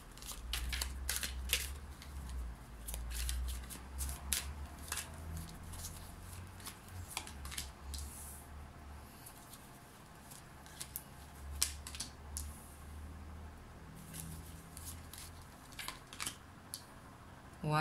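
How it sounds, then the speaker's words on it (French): Three tarot cards are drawn and laid out, with close, dry papery slaps and flicks scattered irregularly over a low steady background hum. "Je vais tirer 3 cartes."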